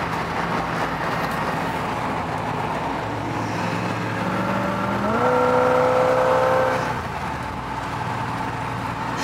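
A mostly restored 1984 Pontiac Firebird Trans Am on a road test drive hums along with steady engine and road noise, then the engine note climbs and holds louder for a couple of seconds before settling back.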